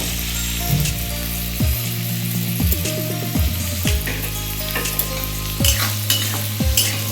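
Onion frying in oil in a pan, with turmeric and salt added, giving a loud, steady sizzle throughout and several short scraping stirs of a utensil; no voices.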